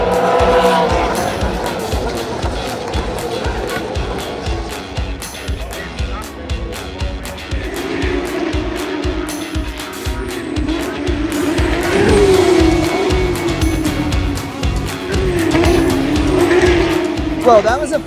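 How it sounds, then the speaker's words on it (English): Supercars racing and skidding at the Melbourne Grand Prix, with loud engines roaring past continuously, tire squeal and a rising whine in the second half, with crowd noise and voices underneath throughout. "that was a fucking eventful supercars race"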